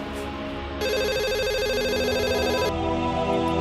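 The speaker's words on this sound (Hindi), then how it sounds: "सुबह सुबह किसका फोन आ गया?" A telephone rings in a home early in the morning, a steady electronic ringtone that starts after a short pause and trills continuously for about two seconds, loud and close, then fades into room noise.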